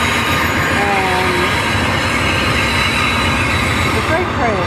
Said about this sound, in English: the freight train.